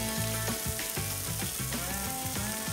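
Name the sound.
beef ribeye steaks sizzling on the grill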